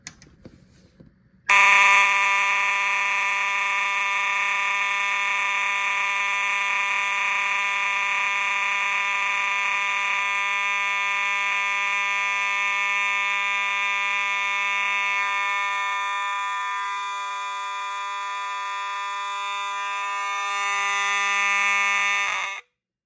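A Simplex 4901-9805 mechanical standalone fire alarm horn blares in one loud, continuous buzzing tone for about twenty seconds before cutting off, heard alone and close.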